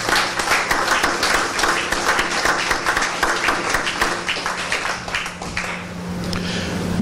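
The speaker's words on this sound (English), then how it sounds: "I would request our audience to all give them a huge round of applause" An audience at a 2019 convocation ceremony gives a loud round of applause, with many hands clapping in a dense, continuous roar that thins slightly toward the end.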